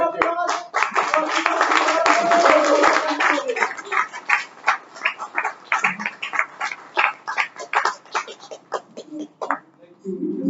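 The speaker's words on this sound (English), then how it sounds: "another huge round of applause" Audience applause at a Toastmasters installation ceremony, a burst of many hands clapping that thins into scattered claps and fades out, with voices and cheers mixed in.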